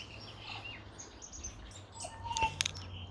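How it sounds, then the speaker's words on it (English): Small wax eye birds chirp in a suburban garden near Wellington, a few faint high tweets and calls over low background hum, with a brief louder burst of chirping near the end. "Wax eye. Oh, so many pretty little birds in this garden."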